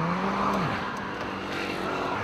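A car used for chicken deliveries drives off with a steady engine hum and a brief rising whine near the start, holding a constant, fairly loud level for a couple of seconds with no voices.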